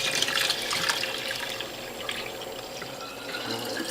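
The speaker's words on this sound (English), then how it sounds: "I'm going to take this smaller container and pour this juice into these other containers" Freshly made watermelon juice with turmeric and ginger pours from a smaller container into other containers, a steady close splashing trickle of liquid running without pause, no voices.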